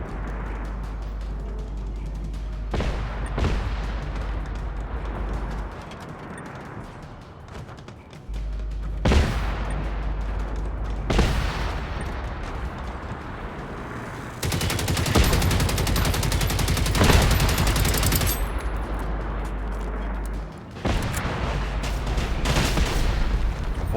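Gunfire fills a base-defense battle in the video game Generation Zero, with loud, repeated shots, rapid bursts and heavy booms over a constant rumbling background, building to an intense stretch of fire.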